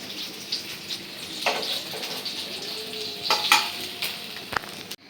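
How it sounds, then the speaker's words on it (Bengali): Koi fish frying lightly in a pan gives a soft, steady sizzle broken by a few scraping stirs and a sharp knock near the end. "কই মাছ একটু হালকা করেই ভাজতে হয়"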